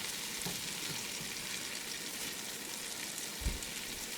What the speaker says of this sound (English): So I want to add my butter now.